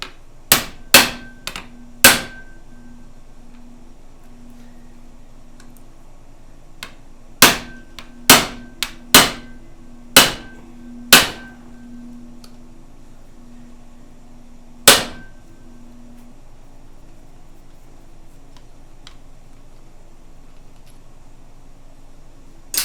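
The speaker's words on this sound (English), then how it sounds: "I'm just removing the 3 screws that we were working on." Sharp metallic blows ring out in uneven bursts, like a hammer or impact tool on a screwdriver, while screws are loosened on a Honda CB550 engine bottom end. The strikes are loud and close, separated by quiet pauses.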